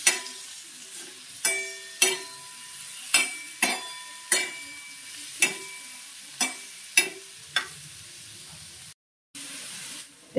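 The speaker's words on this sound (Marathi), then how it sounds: "अर्धा चमचा तेल टाकायचं आणि चांगलं भाजून घ्यायचं" Halved green chillies fry in half a spoon of oil, a soft sizzle broken by a string of sharp, irregular clatters of a spoon stirring against the pan, with a brief silence near the end before the frying continues.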